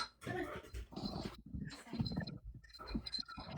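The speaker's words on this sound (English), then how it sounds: "What are you barking at?" A dog growls and gives low, grumbling barks close by, in short rough bursts separated by brief pauses.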